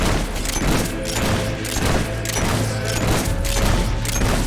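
Rapid gunfire rattles in Fable III on PC during a prison riot in the Traitor's Keep DLC, loud, dense bursts pulsing steadily under a low rumble.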